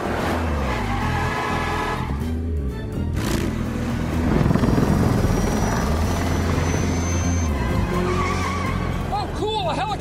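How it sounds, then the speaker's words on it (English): Helicopter passing overhead above a busy road during a high-speed chase, a steady loud low rotor drone blending with car engine noise, with brief whistling and squealing sounds near the end. "Oh, cool, a helicopter!"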